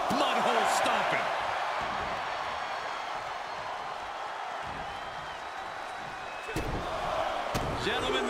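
Wrestler repeatedly stomping on an opponent in the ring during a televised tag team match, heavy thuds and slams ringing out over a loud, roaring arena crowd.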